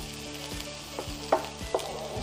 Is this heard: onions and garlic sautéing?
yes